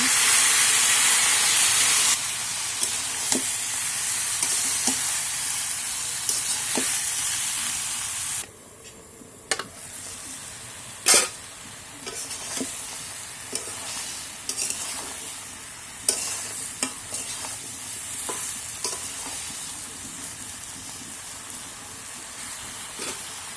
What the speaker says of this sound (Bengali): মাছের জল দিয়ে তরকারিটা কষানো